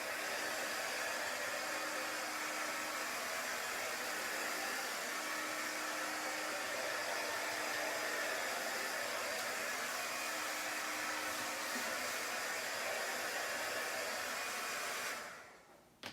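A hair dryer blows steadily to dry ink on a chalk craft project, a loud continuous broadband whoosh that runs without a break for about fifteen seconds before cutting off abruptly.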